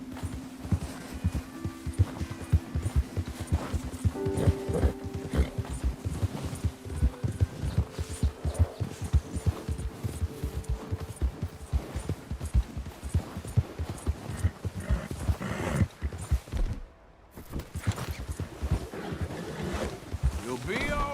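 Steady rhythmic hoofbeats of a horse galloping in the video game Red Dead Redemption 2 pulse throughout, close and even, with a rider's voice speaking over them and a brief dip in the sound near the end.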